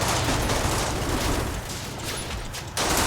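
Tank gun firing in Combat Mission: Battle for Normandy comes as a dense, loud burst of gunfire that crackles throughout, ending in a sharp cut and fresh blast near the end.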